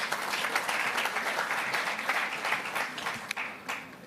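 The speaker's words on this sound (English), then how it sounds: "another round of applause," An audience at a sustainable energy conference applauds, a dense, steady round of clapping filling the hall for several seconds before thinning toward the end.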